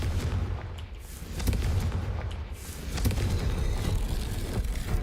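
Confringo spell blasts in the Hogwarts Legacy video game: a series of sharp booming explosions and impacts spread across several seconds over a dense, rumbling game soundscape, with no voices.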